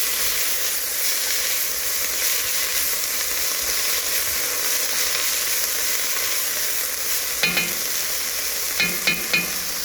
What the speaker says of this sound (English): just break them up with a spatula